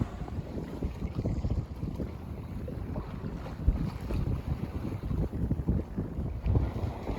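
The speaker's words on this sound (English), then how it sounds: "The wind is changing around here, isn't it?" Wind buffets a sailboat at sea off Sardinia during a mistral, a rough steady low rumble of gusts and wind noise on the microphone with faint wash of water underneath, continuous and fairly loud, no talking.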